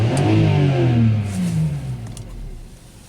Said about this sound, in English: let's see the wide open throttle,